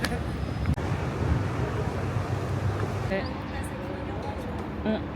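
Wind gusting over the rooftops of Rome, a steady broadband rush with buffeting against the microphone, continuous throughout, with faint voices in the background.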